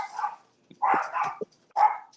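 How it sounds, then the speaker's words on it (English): Dogs bark in short, loud bursts, about three or four sharp barks with gaps of quiet between them, close by and with no talk. "Dogs."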